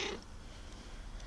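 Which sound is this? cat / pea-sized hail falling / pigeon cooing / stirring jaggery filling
cat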